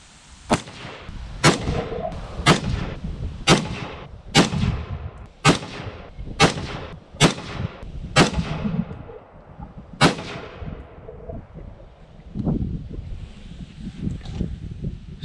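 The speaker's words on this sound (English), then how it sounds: "I'm going to switch this to fire, aim down range, and shoot at my target." A Bushmaster M4 rifle fires about ten sharp, loud single shots at a target outdoors, spaced roughly one second apart, each with a short echoing tail, followed by a quieter stretch with wind noise.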